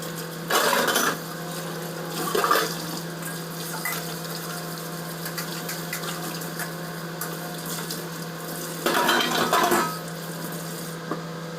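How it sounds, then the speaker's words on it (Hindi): Dishes being washed by hand under a running tap in a home kitchen, with bursts of splashing water and clinking utensils near the start and again near the end over a steady background hum. "मैंने अपने बर्तन भी धो दिए साथ के साथ,"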